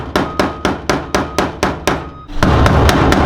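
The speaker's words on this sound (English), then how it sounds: "give it a few taps with the hammer" Nine sharp, evenly spaced hammer taps ring out close by while fitting a fuel pump part on a Toyota Hilux, each with a short metallic decay, followed by a steady broadband clatter.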